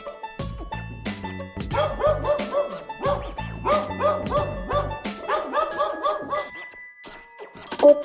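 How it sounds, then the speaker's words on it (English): Dog barking and yipping in quick clustered bursts, fairly loud and near, with a few whimpering tones and short gaps between the volleys. "dog"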